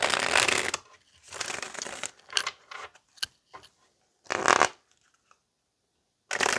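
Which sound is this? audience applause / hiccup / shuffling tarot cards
shuffling tarot cards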